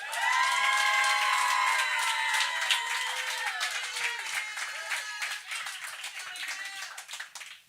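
A comedy show audience cheers and whoops for a comedian, loud excited voices over scattered clapping that gradually thins out toward the end.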